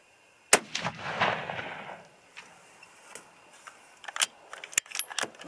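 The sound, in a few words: 6.5 caliber rifle shots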